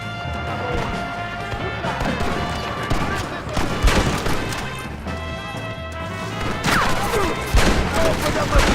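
Machine gun fire in Red Dead Redemption, dense crackling bursts of shots and crashes in a chaotic battle at a mansion, with voices shouting over the gunfire.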